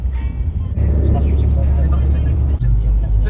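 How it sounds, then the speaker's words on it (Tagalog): Dense road traffic on a Manila street in Quiapo, a steady heavy rumble of engines and passing vehicles close by, with a voice talking over the continuous noise. "Espaltihin to, naku, grabe traffic dito."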